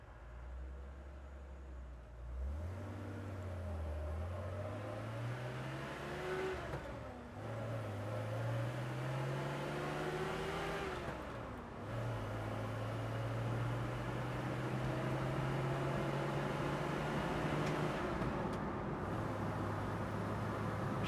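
A 1984 AMC CJ7 driving on the road, its engine droning from inside the cab and rising in pitch as it accelerates, dipping and climbing again through gear shifts, steady and moderately loud with no talk.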